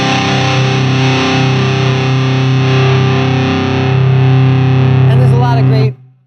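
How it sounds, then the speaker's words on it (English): A warm, high-gain distorted electric guitar holds a thick sustained chord, full and dense across the range, ringing loudly for several seconds before cutting off abruptly into silence. "just a really nice warm gain sound"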